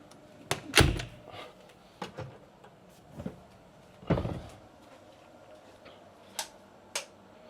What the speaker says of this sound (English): let's close the door and turn the lights off